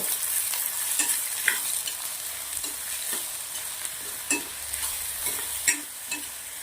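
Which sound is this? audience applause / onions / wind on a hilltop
onions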